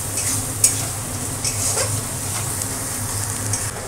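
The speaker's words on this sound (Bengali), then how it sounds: "পেঁয়াজটা একটু ব্রাউনিশ করে ভেজে নেব" Onions fry toward brown in a pan while being stirred, with a continuous crackling sizzle, scraping strokes and a brief utensil clink near the start; a low background hum runs underneath.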